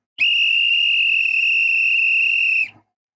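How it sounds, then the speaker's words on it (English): A referee's final whistle at a Portugal vs Croatia World Cup football match, one long loud steady shrill blast lasting over two seconds, heard alone. "The final whistle has been sounded"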